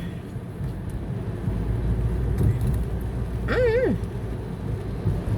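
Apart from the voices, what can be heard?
car driving past on the road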